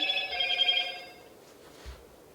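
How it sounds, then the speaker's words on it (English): A telephone rings once during a county commission meeting, a bright electronic ring lasting about a second before cutting off into quiet room noise. "Well, when the phone stopped ringing."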